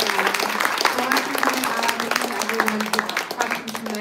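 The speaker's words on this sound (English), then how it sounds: "Let's give these two one last round of applause." An audience applauds after a literary talk and conversation, steady close clapping that fills the whole stretch, with a few voices underneath.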